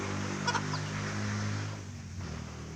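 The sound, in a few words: native chicken hen clucking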